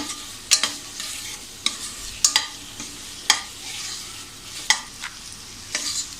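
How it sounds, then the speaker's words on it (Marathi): Tomato sautéing in a little oil in a pan for a quick vegetable curry, with a spatula scraping and tapping the pan at irregular intervals over a soft, steady sizzle. "आता याच्यामध्ये आपण हा टॅमॅटो टाकूया. ते सुद्धा जरा असं 1 मिनिट परतून घेऊया."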